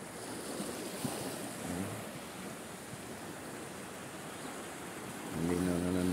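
Sea waves washing onto the beach at San Juan, Batangas on an early morning walk, a soft continuous surf wash with wind rumbling on the microphone and a low engine-like hum rising near the end.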